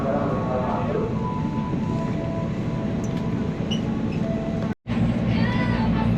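Steady rumbling interior noise of a passenger train travelling toward Rangkasbitung, a continuous low drone with faint rattles, briefly cut out near the end, with people talking throughout.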